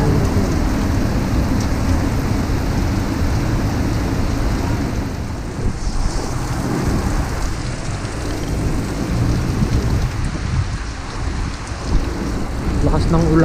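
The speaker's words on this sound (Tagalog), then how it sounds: "Lakas ng ulan." Heavy rain pours steadily throughout, a dense roar drumming on a surface, with low rumbling underneath that suggests distant thunder.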